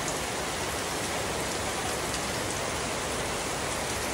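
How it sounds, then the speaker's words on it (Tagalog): Steady, dense rain pours down without a break, a constant hiss of drops on surfaces, close and loud throughout. "Nag-ulan ang langit, guys."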